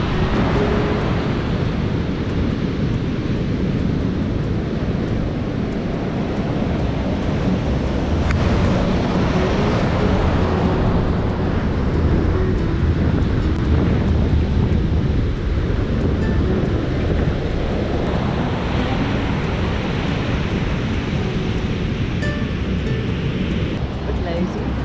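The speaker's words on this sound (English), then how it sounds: "Waves crashing." Ocean surf pounds a beach at Dias Beach, Cape Point, South Africa, as a loud, continuous roar and wash that fills the whole stretch, with people talking over it.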